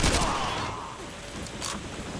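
Gunfire rattles in Call of Duty Modern Warfare 2 Remake, a loud burst of shots at the start that fades, then another short volley near the end.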